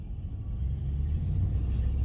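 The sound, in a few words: truck driving by on road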